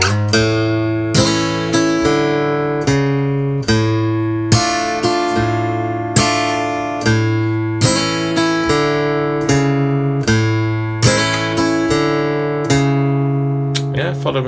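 An acoustic guitar plays the opening bars of a song in a fingerpicked blues pattern, with plucked notes and strums in a steady, even rhythm, close and clear with no talking.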